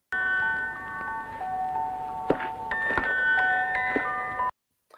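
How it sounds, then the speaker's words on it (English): Musical pocket watch chiming in a 1968 spaghetti western film, a sustained tinkling melody of bell-like tones over a low hum, with a few soft thumps, stopping abruptly near the end. "I mentioned El Moreno's musical watch and the chimes."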